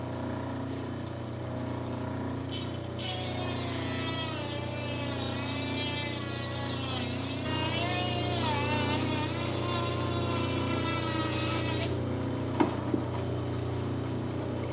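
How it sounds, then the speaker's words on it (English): A Dremel rotary tool, a Fantic F2, grinding Utah green garnet, a steady high whine over a constant low motor hum that sharpens and wavers as the bit bites the stone, then eases off near the end. "This is what we're carving right now, is a Dremel."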